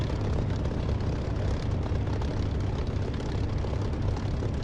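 Simulated fixed-wing aircraft engine in a DCS or War Thunder flight game, a steady, loud propeller-like drone with heavy low rumble, unbroken throughout as the plane powers up for takeoff.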